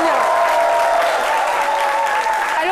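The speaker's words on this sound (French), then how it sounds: "Merci à vous, pouvez vous applaudir." A studio audience at a midday television cooking show claps warmly and continuously, with a tone or whistle sounding faintly over the dense applause.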